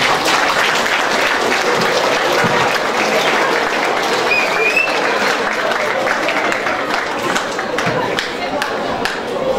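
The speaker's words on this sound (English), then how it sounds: "Round of applause" A school hall audience gives sustained, dense applause for two pupils winning the best junior student in Irish award at a junior prize giving, clapping steadily for nearly ten seconds with no talk over it.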